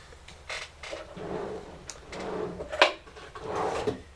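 Drawer being pulled open and rummaged through, several scraping slides and creaks, a sharp click partway through, with rustling and clattering close by and no talk.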